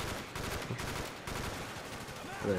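Rapid gunfire bursts in Call of Duty on the Wii, with a MAC-11 submachine gun, crackle in quick repeated rounds that fill the stretch, with a voice cutting in at the end.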